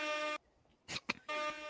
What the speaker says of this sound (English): it's the DJ air horn